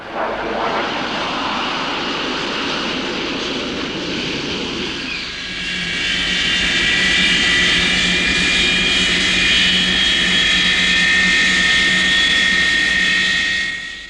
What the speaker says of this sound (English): The swept-wing Super Sabre was the first jet fighter capable of exceeding the speed of sound without diving.